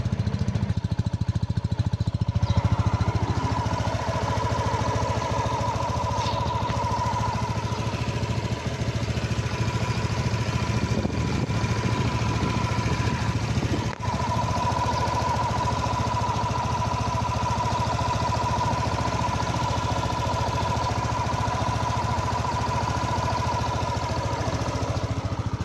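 A Euromotors Griffin 180i motorcycle engine idling steadily after a Shell Advance AX7 oil change, a continuous mid-pitched drone with a faint whine, heard close and without talk throughout.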